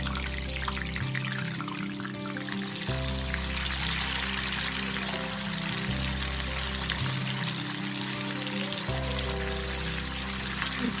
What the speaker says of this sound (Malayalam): ഇനി നമുക്ക് ഇതിലേക്ക് വേവിച്ച് ബീഫ് ഇട്ട് കൊടുക്കാം.